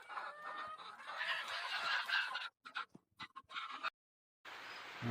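Desi chickens on a poultry farm cluck and chatter quietly in a close, busy cluster, the sound cutting out abruptly in short gaps before resuming.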